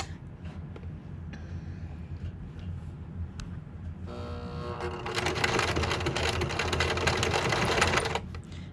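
A sewing machine runs a zigzag stitch to attach elastic to an N95 mask cover, starting with faint ticks and quiet handling, then a steady, loud, close motor whir for the last few seconds.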